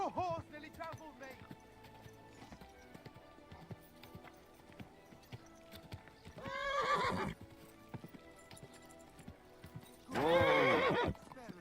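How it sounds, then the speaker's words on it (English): Hooves clop steadily in a rhythmic trot in a video game set in medieval Bohemia while a horse gives two loud whinnies, one midway and one near the end. "Your horse nearly trampled me!"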